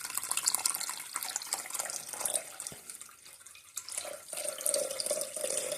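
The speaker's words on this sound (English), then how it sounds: "pour it into a very large bowl, or in this case a measuring cup" Brewed coffee poured into a large measuring cup, a steady close trickling and splashing stream that briefly slows before resuming.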